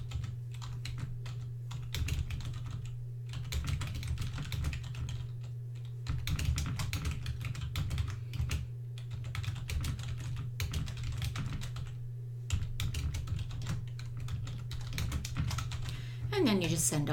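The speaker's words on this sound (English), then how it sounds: "So you just type a date." Rapid keystrokes on a computer keyboard as a date is entered, steady clicking runs through most of the stretch with short pauses, close and clear over a low constant hum.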